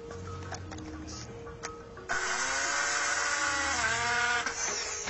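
A power drill spins up with an abrupt start partway through, then runs loud and steady with a whining motor tone that shifts slightly in pitch, after quieter clicks and handling noise.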